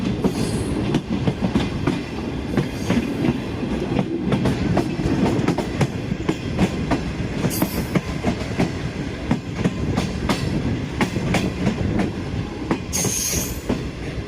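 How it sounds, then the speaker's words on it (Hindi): A train pulls into Bahawalpur railway station and slows, with steady clickety-clack of wheels over rail joints, a continuous rumble and occasional high wheel squeals, fairly close and without talk. "बहावलपुर ट्रेन पहुंच रही है और बस अब रुकने वाली है"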